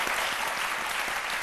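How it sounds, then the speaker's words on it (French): An audience on a midday television show applauds loudly, with dense, continuous clapping from many hands throughout a short burst. "on l'applaudit très fort"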